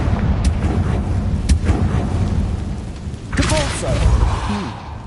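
A Confringo fire spell blast in Hogwarts Legacy, a loud rumbling burst over dense combat noise, with a spoken voice-like call in the middle of the clip.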